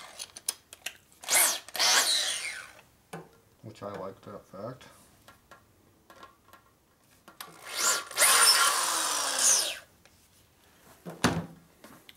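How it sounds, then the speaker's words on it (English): A reamer works a 1942 Harley-Davidson WLA 45ci star wheel hub in bursts of grinding, scraping cuts with pauses between, and someone speaks briefly between passes. "Now reamers, you can only take a little at a time."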